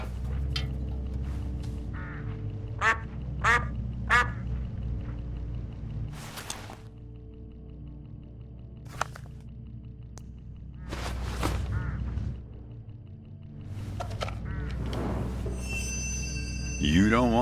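Hooded crows caw in short, separate bursts along a country road in the Hitchhiker mystery game, the calls spaced irregularly over a steady low rumble of ambient background.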